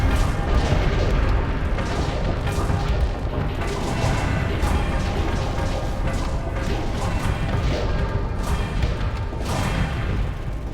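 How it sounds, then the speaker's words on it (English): Continuous dense explosions and crashing impacts from a spaceship fleet battle in the space combat game Starsector, a loud unbroken barrage of booms layered over one another for the whole stretch. "There's so many explosions."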